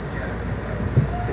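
A BART train at Del Norte station rolls with a steady rumble and a sustained high metallic wheel whine, heard from inside or alongside the car, with no talking.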